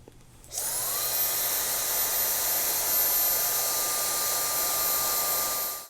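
A barber's hair dryer switches on and blows with a loud, steady, high-pitched whine and airy rush, running continuously up close until it cuts off at the end.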